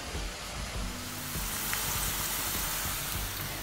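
Onion pakodas deep-frying in oil at medium heat give a steady, continuous sizzle with a fine bubbling hiss throughout, close and moderately quiet.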